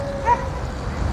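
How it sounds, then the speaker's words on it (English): A dog on a Los Angeles street near Santa Monica gives a single short bark or yip over low traffic rumble, heard at a moderate distance. "Oh, that's a dog."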